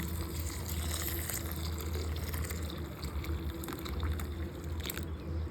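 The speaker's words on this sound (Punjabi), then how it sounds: "ਆਪਾਂ ਥੋੜਾ ਜਿਹਾ ਪਾ ਦੇਣਾ ਗਰਮ ਪਾਣੀ" Steady stream of hot water pouring continuously into a vessel of soaking lentils, close by, with a constant rushing wash and no voices.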